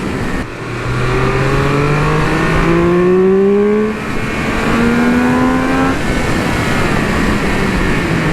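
A Triumph Speed Triple 1200 RR motorcycle engine revs hard through the gears, its pitch climbing repeatedly with short dips at each shift, loud and close with wind rush, alone without talk.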